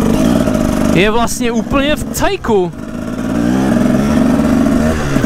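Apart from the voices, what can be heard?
Husaberg TE 300 motorcycle engine revving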